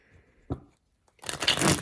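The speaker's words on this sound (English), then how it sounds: "Wow, that was a bad shuffle." Tarot cards being shuffled by hand, a short sharp riffle followed by a longer, louder rustling burst of cards, close and clear with no talking.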